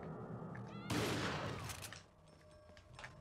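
A burst of gunfire in Resident Evil 4 erupts suddenly and loudly after a quiet stretch, rattling for about a second before fading into softer game ambience.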